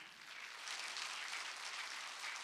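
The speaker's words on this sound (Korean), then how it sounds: "박수 좀 쳐줘요" A church congregation at a Korean Sunday worship service breaks into applause, a dense, steady wash of clapping heard from a moderate distance, fairly faint.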